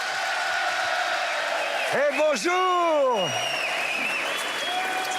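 Studio audience applause on a French car show as two guests are welcomed, a steady wash of clapping with a few whoops, while a voice greets the guests loudly over it midway through.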